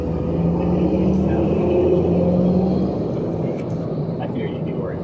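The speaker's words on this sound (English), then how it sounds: "I keep hearing the engine kick in." An electric car hums steadily on the roads of Phuket, Thailand, a low constant rumble heard from inside the vehicle while people talk over it throughout.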